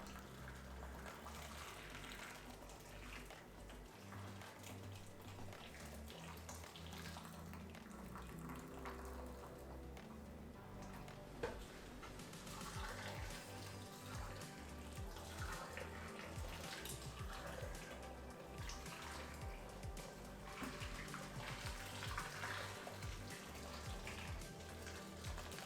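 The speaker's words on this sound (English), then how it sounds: "Pour in boiling water to cover, making sure to fully fill all the containers." Boiling water pours steadily into a heat-proof bowl holding glass jars and lids, a continuous quiet gush and trickle lasting the whole stretch with no voices.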